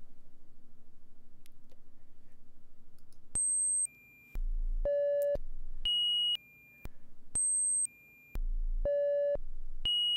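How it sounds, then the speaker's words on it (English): A random eight-note step sequencer loop in VCV Rack plays synthetic sine-like beeps that jump between pitches in a stepped, repeating pattern over a low hum, clean and alone, with no voices. "What we have there is an 8-note loop, but it probably doesn't sound very musical yet."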